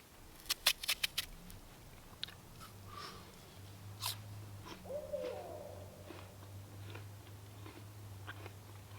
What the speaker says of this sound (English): Now there's an owl yelling at me.